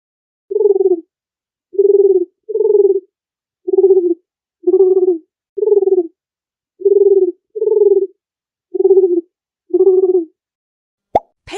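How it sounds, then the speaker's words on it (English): A dove gives ten short, soft, evenly spaced coos, each a brief hollow note with a slight rising-falling shape, heard close and alone against silence. "Dove."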